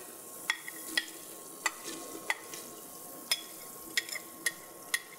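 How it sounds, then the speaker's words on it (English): Minced jalapeno and bell peppers being stirred into a hot vinegar and sugar brine, giving a low simmering hiss with a steady run of sharp spoon or pot clicks, close and fairly quiet, no talking. "I'm gonna add this to the hot vinegar and sugar brine."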